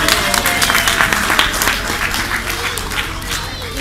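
A children's audience at a poetry reading during a book fair breaks into brisk, dense applause that starts strong and tapers slightly over a few seconds.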